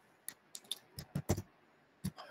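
Typing on a computer keyboard, a short irregular burst of about ten crisp key clicks close to the mic, with no talking.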